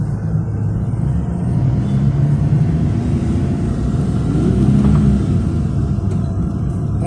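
Loud, steady street traffic with cars passing and engines rumbling continuously close by, a dense low roar with no pauses.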